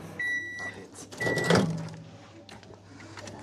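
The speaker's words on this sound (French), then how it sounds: "ton micro-ondes il marche pas" A microwave oven in a home kitchen runs with a steady low hum under scattered handling clatter and a brief loud clunk, while tonal beeps sound near the start.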